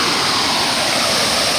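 A waterfall roars steadily and loudly up close, a dense, unbroken rush of falling water with no voices.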